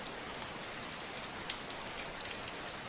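Rain falls steadily in a dense, constant wash of droplets hitting surfaces, with occasional closer drips standing out and no voices present.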